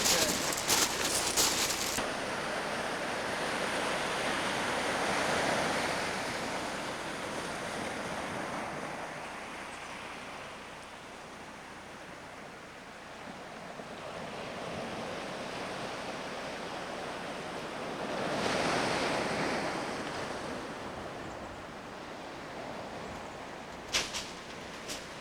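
Surf rolling onto a wide beach at low tide on a wild western shore, a continuous broad wash that swells and fades in slow surges, with wind buffeting the microphone at the start and end.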